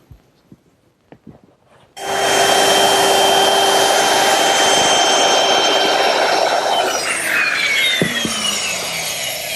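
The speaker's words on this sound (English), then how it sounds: "I'm using a 1/2-inch radius round-over bit just to ease the edges of the shelf." After a few faint clicks, a router fitted with a 1/2-inch round-over bit starts abruptly and whines loudly and steadily as it eases the edges of a wooden umbrella-stand shelf. No one talks over it.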